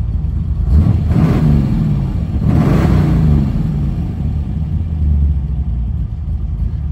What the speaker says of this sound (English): And man, does that exhaust sound so good.